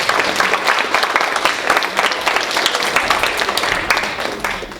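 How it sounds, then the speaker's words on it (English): A high school audience applauds two students, Zoe and Sammy, at a psychology class demonstration, with a dense, steady burst of clapping, loud and close, tapering slightly at the end. "let's give a big round of applause to Zoe and Sammy"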